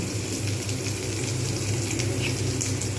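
Raw onion and garlic fry in a hot pan while cooking prawn and masoor dal, giving a constant close-up sizzle and crackle with no pauses.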